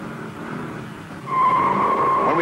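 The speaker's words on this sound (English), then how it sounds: "When we popped the clutch on our third time out of the hole, those big rubber donuts bit hard into the asphalt" A 1971 Dodge Challenger 383 launching hard with the clutch popped, engine roar rising sharply into a loud tire squeal as the tires bite the asphalt on a test track.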